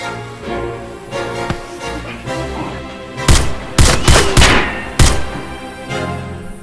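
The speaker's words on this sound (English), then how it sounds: "Good shooting there, Captain Longfeather." Gunfire in a steampunk movie shootout: a cluster of loud, sharp shots fired in quick succession over a dense background of music and effects, with no talk.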